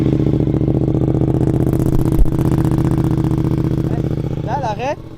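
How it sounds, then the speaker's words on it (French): A Suzuki GSX-8S motorcycle engine idles close by, a steady throbbing pulse with a brief knock partway through. A voice is heard near the end. "et c'est parti, on va la démarrer"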